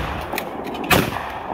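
One shotgun blast at a skeet target at Thunder Mountain in New Jersey, a sharp single report at a moderate distance over a steady outdoor hiss.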